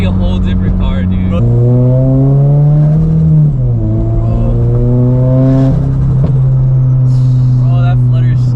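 A turbocharged Subaru BRZ making over 500 hp revs hard and loud up through the gears, its engine note climbing, dropping and climbing again, with a sharp turbo flutter near the end as people talk excitedly over it.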